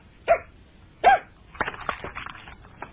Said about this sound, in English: You hear the dogs? They're here. Lots of them. Come on, bark!